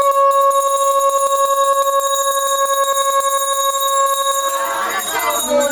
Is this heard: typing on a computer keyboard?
no